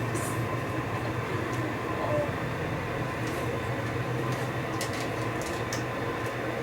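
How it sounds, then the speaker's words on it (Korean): A subway train rumbles steadily with a constant low drone and faint rattling and squeaks, heard from inside the car. "지하철"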